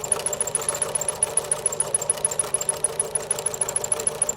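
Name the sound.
sewing machine backstitching a fabric mask lining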